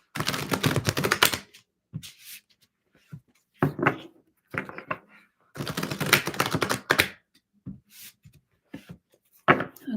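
Tarot cards are shuffled in several quick riffling bursts, crisp and close, separated by short pauses and a few soft taps.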